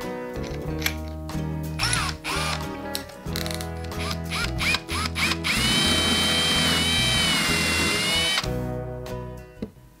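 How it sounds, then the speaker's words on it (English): A power drill boring a small hole for a flame piece in a DIY resin campfire diorama night lamp, whining steadily with brief stops and restarts, then running one long sustained burst near the mic before cutting off. "we're going to drill a smaller hole, which is just the thickness of the flame"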